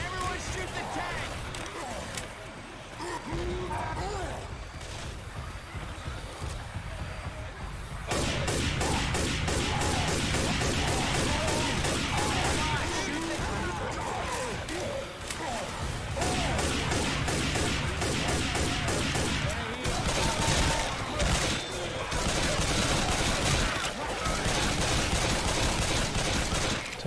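Sustained gunfire at the Tank in the zombie shooter Left 4 Dead 2, dense rapid shots and crashes that build into an almost continuous loud rattle, with voices shouting over it.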